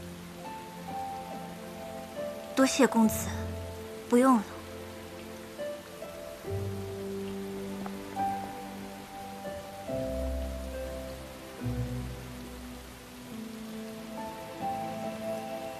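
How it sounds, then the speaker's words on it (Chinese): Rain falls steadily outside, a soft continuous patter heard beneath a man's and a woman's dialogue and a gentle background music score. "外面下雨"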